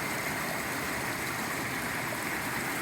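Water tumbling steadily over Upper Bearwallow Falls in a North Carolina state park, a continuous broadband rush heard close from the rocks just below, with no voices over it.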